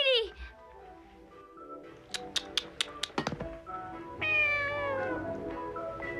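A cat in the 1987 anime film Lily C.A.T. gives several meows, high rising cries near the start and end with a run of sharp taps between, alongside background tones.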